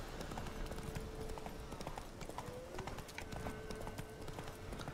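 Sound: horse galloping in video game The Witcher 3

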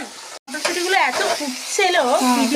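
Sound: potatoes frying in a pan

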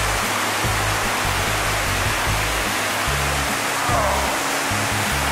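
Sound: Panther Creek Falls waterfall

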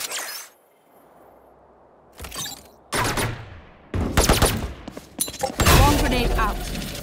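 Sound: swarm grenade in Valorant video game

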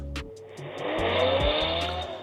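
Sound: car engine sound played as tablet fan start-up sound

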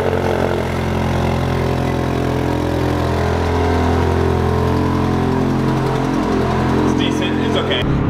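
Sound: Ferrari engine cold start and idling

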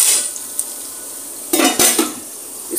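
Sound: covering a cooking pot with its lid

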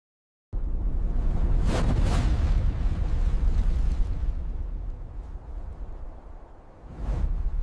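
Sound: asteroid explosion

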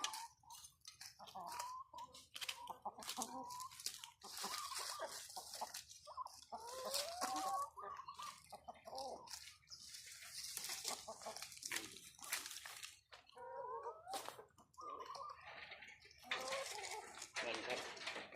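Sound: chickens clucking while eating mung bean sprouts

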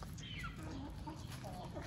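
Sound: rooster clucking

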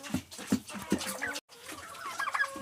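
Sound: hens clucking in barn

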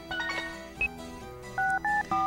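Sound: telephone dialing in video game Tokimeki Memorial 2

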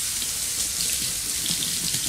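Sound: tap running cold water over onions in strainer

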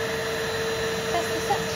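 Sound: Nuvac vacuum cleaner switched on, suction running

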